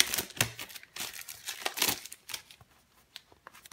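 Close-up crinkling of plastic wrap in irregular crackly bursts, loud at first and then thinning into scattered, fainter rustles, with no voices.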